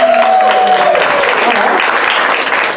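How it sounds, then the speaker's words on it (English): Audience at an RPG-13 improv show applauds to vote for a scene, a loud, steady burst of clapping filling the room, with a faint whistle-like tone gliding through the first second. "By a round of applause, we'll start with light blue"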